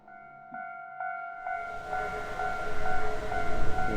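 A train at a railway station in the horror video game Hollow Cocoon, a steady rumble with a sustained tonal horn-like hum that swells louder over a few seconds, no voices.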